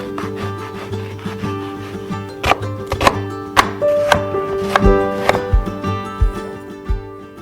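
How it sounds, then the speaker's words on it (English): A knife chops onion on a cutting board in uneven sharp knocks, close and fairly loud, with rubbing and scraping between strikes and no talking. "Next, chop 1 cup of onion."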